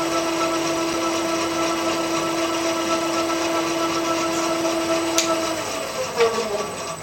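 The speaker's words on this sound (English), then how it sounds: "bring the rotor up to speed again, and when it's up to speed, collect the data" A rotor spins up on a single-plane balancing rig, giving a steady loud whine with several fixed tones that shift and break up near the end, along with a brief clack.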